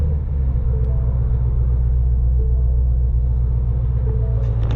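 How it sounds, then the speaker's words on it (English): A 2019 Shelby GT350R idles with a deep, steady, close rumble. The low engine note holds constant throughout, and no voices are heard. "foot on the clutch, car neutral, push button start down here"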